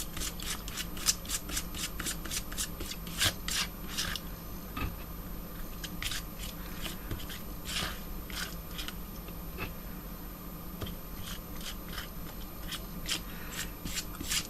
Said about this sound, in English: I just start by taking the gel through the stencil